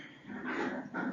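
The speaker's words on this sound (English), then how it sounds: "you can hear my dogs playing in the background" Dogs playing indoors give a short burst of whimpering, yipping sounds in the background, thin and fairly quiet, lasting only a moment.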